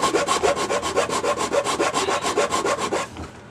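Rhythmic back-and-forth rasping as a file cuts a taper into a plastic part for a back-up light install on an FJ Cruiser roof rack, about fourteen even strokes close up, stopping near the end.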